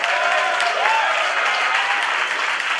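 An audience claps loudly and steadily to welcome young guests to a gathering, a dense wash of applause that holds throughout.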